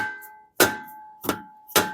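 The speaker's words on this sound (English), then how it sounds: "we're going to try this dead blow hammer and see if this will" A dead blow hammer strikes a Honda Pilot brake part three times at uneven intervals, each hit a sharp close knock with a brief metallic ring, while a steady high tone hums underneath.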